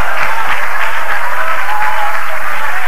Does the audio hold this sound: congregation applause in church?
yes